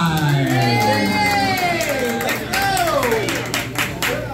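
Audience at a drag talent night cheers and claps for a Lion King soundtrack performance, a loud, continuous roar mixed with shouts, with a voice carrying over the crowd.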